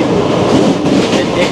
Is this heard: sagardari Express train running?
yes